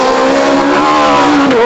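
Citroën C2 rally car at the 2007 Rali Vinho Madeira, a loud, close high-revving engine roar sustained throughout as it races along a stage, with a slight tyre squeal.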